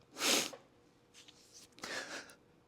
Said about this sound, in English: Oh my God, I do have to sneeze.